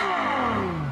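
Ferrari 812 Superfast with its 6.5-litre 800-horsepower V12, the engine note sliding downward in pitch as the revs fall, loud and close with no voices.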